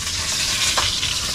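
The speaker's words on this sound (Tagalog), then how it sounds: "nagluluto si parang JP" Food sizzles loudly and steadily in a hot pan as it is stirred and cooked at home, a dense, continuous frying hiss with a brief scrape of utensil partway through.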